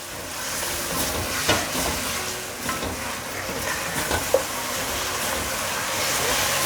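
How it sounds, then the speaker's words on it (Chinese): Shiitake mushrooms stir-fried over medium-high heat in a wok with soy sauce, vegetarian oyster sauce, sugar and white pepper give a constant close sizzle, broken by scattered clicks and clatters of the spatula against the pan. "这时候就要转中大火爆炒"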